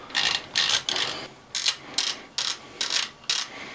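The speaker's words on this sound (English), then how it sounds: "you can hear the detent ball that is captured in this part of the barrel right here" A Remington Model 31 pump shotgun barrel slides into place as its captured detent ball clicks in a steady ratcheting series of about eight crisp, close clicks with no talking.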